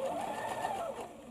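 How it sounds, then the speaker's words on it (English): A sewing machine stitches a long dart in jacket fabric, a brief steady hum with a rising and falling whine, close and moderately quiet. "I'm going to sew the long dart"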